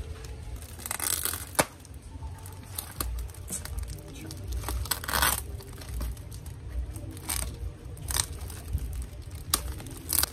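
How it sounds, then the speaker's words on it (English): Tape and packaging being cut and torn open on a heavily taped parcel, with crinkly tearing and crunching bursts at irregular intervals over a low background, fairly close. "All right, so we'll cut this now. I don't know why they put so much tape on the package then."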